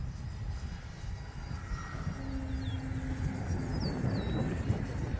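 Steady electric motor drone of an E-flite Commander mPd 1.4m RC airplane in flight at about three-quarter throttle, heard from a distance with a faint whine over outdoor background noise and a few brief bird chirps.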